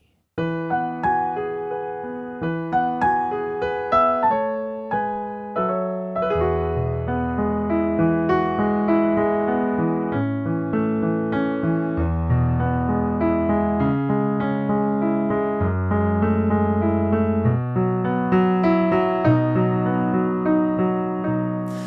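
A solo piano plays a slow, gentle rendition of the Masters theme, chords and melody ringing out and fading smoothly, calm and unhurried throughout.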